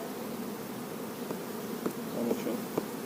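Honey bees buzz steadily around a queen cage at a hive, a continuous close hum with a few brief louder passes, and no one speaks.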